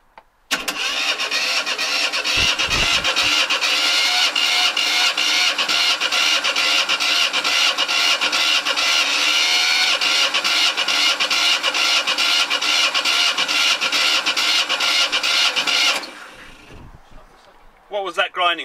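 Volvo two-cylinder diesel engine cranking with a rapid, loud, rhythmic chugging for about fifteen seconds, then cutting off abruptly into quieter bumps and noises.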